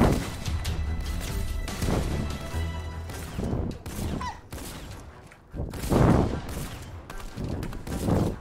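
Gunfire from players shooting in the Fortnite video game, repeated bursts and sharp impacts clustered throughout, loud and busy with game effects layered over each other.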